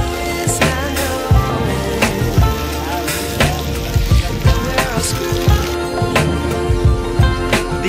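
Heavy rain pours during a storm, a dense steady hiss with scattered sharper drops and splashes running through the whole stretch, with some tonal sounds mixed into the background.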